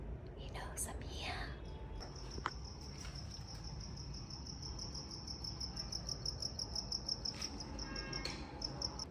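A cricket chirps steadily in a bathroom, a faint high, continuous trill carried over a soft background hiss and some quiet rustling, with no clear speech.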